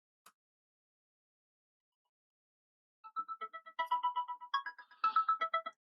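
A phone ringtone plays a quick, bright melodic pattern of short beeping notes in repeated bursts, clear and alone after a near-silent stretch.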